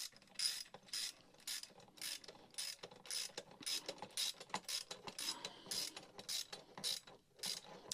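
A hand ratchet clicks rapidly while it tightens a bolt on a Beast Stick Mini bracket. The crisp, close metallic ticks come in steady back-and-forth bursts for several seconds.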